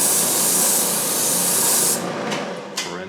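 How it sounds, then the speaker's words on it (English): Close, steady rasping of light sanding on wood spinning on a lathe for about two seconds, then it stops, leaving a few brief scuffs. "It only needs a light sanding,"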